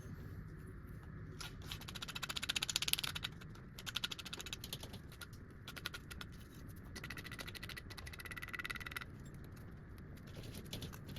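Scissors cut out a cardboard template for a car seat bracket, producing rapid, close crunching snips in uneven bursts, with brief pauses between cuts and no talk.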